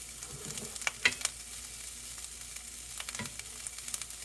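Finely diced bacon frying in a pot, giving a steady close crackling sizzle with scattered sharp pops and a few spatters. There is no talking over it.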